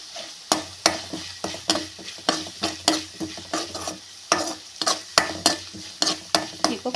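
Ginger, garlic and curry leaves fry in a pan for egg masala curry, with a spoon scraping and stirring in quick irregular strokes over a steady close sizzle.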